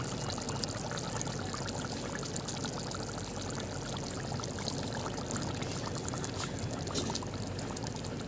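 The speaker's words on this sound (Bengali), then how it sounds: "আমি এক চামচ কর্নফ্লাওয়ার এক বাটি জলের মধ্যে গুলে রেখেছিলাম এটাকে অ্যাড করে দেব" Cornflour slurry made with water is poured into simmering chilli chicken, giving a continuous close pouring and bubbling sound with no talk.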